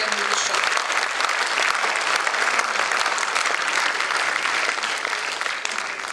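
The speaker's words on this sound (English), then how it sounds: "So please give yourselves a huge round of applause before we begin with the show." Parents in an audience at a school show give a sustained, dense round of applause, steady and loud throughout with a faint crowd murmur underneath.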